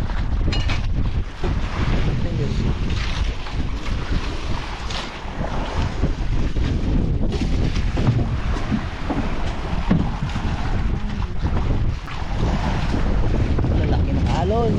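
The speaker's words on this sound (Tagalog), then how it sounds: "Lalaki ng alon." Large sea waves heard from aboard a boat, with constant loud wind buffeting the microphone and water rushing against the hull throughout, a voice faintly mixed in.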